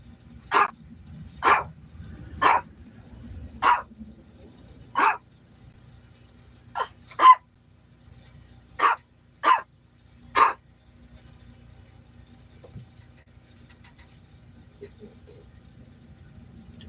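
A dog barks about ten times in short, spaced, loud bursts over a low steady background hum, with the barks ending after the first two-thirds and leaving only faint ambient noise.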